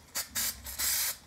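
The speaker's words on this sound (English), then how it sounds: "This is a Super 77. It's a spray adhesive." Super 77 spray adhesive hisses from an aerosol can in three quick bursts, the last one longest, close and loud with short gaps between.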